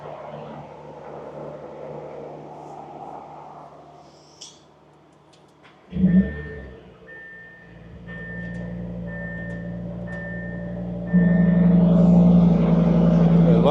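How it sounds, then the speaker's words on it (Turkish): A car engine cranks and catches after a quiet stretch, then settles into a rumbling idle before the exhaust roars louder toward the end. "Cold start yapacağız."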